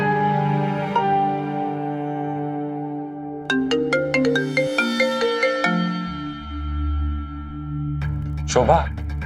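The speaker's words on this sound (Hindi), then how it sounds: "अनिल को फोन करती।" A phone ringtone plays a bright electronic melody of quick repeating notes, loud and close, over a soft musical background, followed by a short voice.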